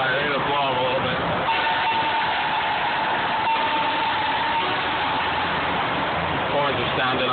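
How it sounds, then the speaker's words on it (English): Shocker-style train horns blast inside a tunnel, a sustained loud honking tone held for several seconds over engine rumble and road noise, with voices talking throughout. "Horns are sounding off crazy."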